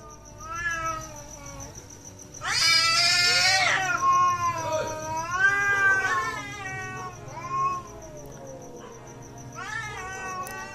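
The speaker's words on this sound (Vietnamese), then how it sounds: "Từng con mèo hoang đều kêu gào thành những âm thanh vang dội." Several wild cats yowl and caterwaul in long, wavering cries, loud and close, overlapping in bursts with a steady high whine in the background.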